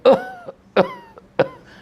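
A person imitates a phlegmy cough: three harsh, throaty coughs in a steady rhythm, each followed by a short strained vocal tail.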